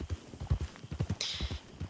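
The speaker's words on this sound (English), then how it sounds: "What horse is it? It's a foxtrotter." Hooves of a foxtrotter horse clip-clop in a steady, quick rhythm on firm ground in a video game, close and distinct, with a brief burst of other noise partway through.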